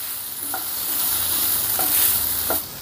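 Sesame seeds and spices frying in a pan, giving a loud, steady hiss of sizzling oil with a few light stirring taps, heard up close with no voices.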